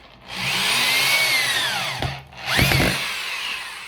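A power drill drives screws into wood in two close, whining runs, the motor pitch sagging as it loads up, with a brief pause between the runs.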